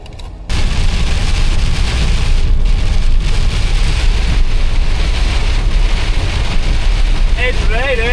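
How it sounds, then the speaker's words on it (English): Heavy rain pours down on the Isle of Mull, a loud, constant hiss that starts abruptly and holds steady throughout, with a brief voice near the end. "It's raining!"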